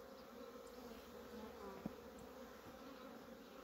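Honeybees buzzing at an open hive in a steady, low drone, a close swarm hum continuing throughout with no voices.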